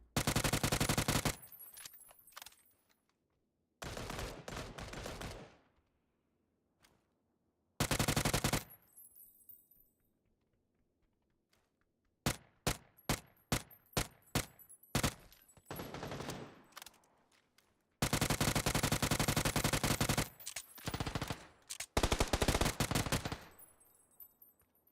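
SMG gunfire in PUBG pours out in long, loud automatic bursts that alternate with rapid single shots and short pauses, dense and close throughout with no talk.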